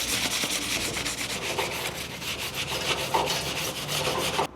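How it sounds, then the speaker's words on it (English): A dual-action sander with 80-grit paper sands cured Duraglass body filler on a car during paint prep, giving a loud, continuous rasping whir with rhythmic pulses that stops abruptly at the end. "So I'm just gonna hit it with some 80 grit on a DA."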